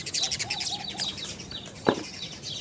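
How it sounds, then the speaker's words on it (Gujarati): Pigeons flap in to eat scattered grain: quick bursts of wingbeats close by, mixed with bird chirps, and a sharper thump near the end. "કબૂતરા જો ચણ ખાવા આવી ગયા છે"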